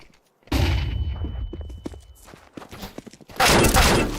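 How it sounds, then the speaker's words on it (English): A flashbang goes off in the tactical shooter Valorant: a loud, sudden burst followed by scattered thuds and clicks, then a second harsh, broadband blast near the end, with no talk over it. "Deploying flashbang."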